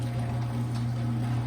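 A dishwasher with a spray fault running its pump, a steady low hum with water churning and sloshing inside, close and even throughout.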